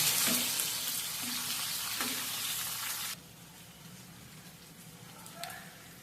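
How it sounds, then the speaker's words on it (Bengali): Chopped onion and tomato frying in a pan for chickpea curry, a bright, dense sizzle for the first half that drops abruptly to a softer, quieter frying with faint stirring. "এবারে টমেটো পেঁয়াজ আমি ভালো মতো ভেজে নেবো"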